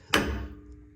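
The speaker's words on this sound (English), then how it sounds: "So now you're gonna take a hammer and you're gonna smack" A single hammer blow striking a Jeep YJ steering knuckle during a steering correction kit install, one sharp metallic smack that rings and decays over the next half second.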